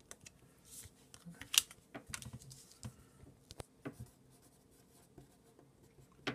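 A pen signs personalized Topps baseball cards at close range, giving soft scratchy strokes with small taps and card handling between signatures. No one talks.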